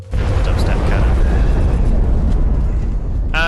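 A weapon firing and a large explosion in the video game XCOM: Enemy Within, one loud, sustained rumbling blast that fills the clip and fades near the end.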